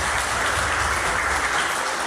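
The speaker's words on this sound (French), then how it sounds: "est-ce que vous pouvez applaudir?" Sustained audience applause at a pre-match press conference for a youth football festival, a dense, even wash of clapping throughout.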